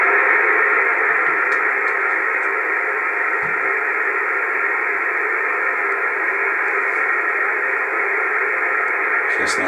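Radio station broadcast picked up on an anti-noise antenna, a steady hissy band of receiver noise carrying the station's signal throughout, loud and continuous with faint clicks and no talk.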